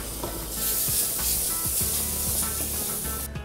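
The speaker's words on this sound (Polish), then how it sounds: "Zasmażka gotowa. Wleję do zupy." Light roux of fried flour poured into a pot of Polish tripe soup in a kitchen, giving a close, continuous sizzling hiss with soft stirring and scraping and no voices.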